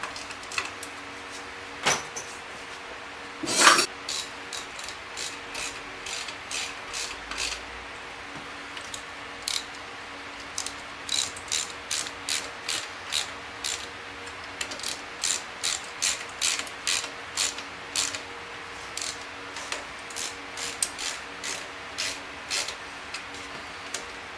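Socket ratchet tightening intake manifold bolts on a Chevy big-block 454 high-performance engine, a quiet, steady series of short clicking bursts in repeated strokes, heard alone without talk.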